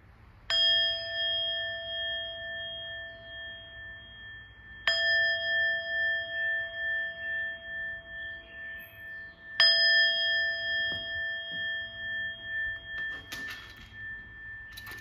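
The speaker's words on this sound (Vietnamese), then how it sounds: "Thì cái này em cũng sẽ đánh thử cho cả nhà có thể chiêm ngưỡng." A small antique Japanese bronze meditation bell, number 7, about 9 cm across, is struck three times at even intervals, each clear ding ringing on and slowly fading in a quiet room.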